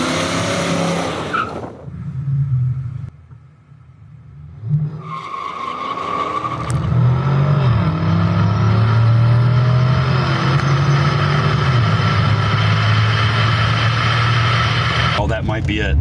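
A stock Pontiac Trans Am with 2,831 miles launches hard down a drag strip: a brief tire squeal and idle, a short lull, then a loud, sustained engine roar that climbs through the gears as the car pulls away.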